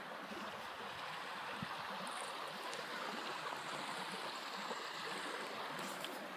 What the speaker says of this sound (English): Lewis, Clark, and their men had to cross streams smaller than this